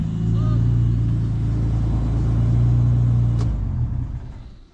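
A turbocharged BMW E30 engine idles with a loud, steady low rumble heard from close by, easing off toward the end as the sound fades, while someone talks faintly.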